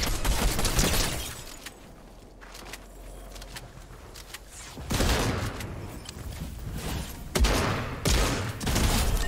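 Gunfire in a video game featuring new Season 3 weapons: loud, close bursts of rapid shots and volleys, with repeated sharp blasts across the clip.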